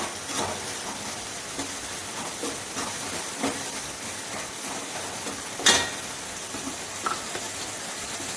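Food sautéing in a pan with salt, giving a steady close hiss of frying broken by occasional scrapes and clinks of a stirring spoon, with no talking.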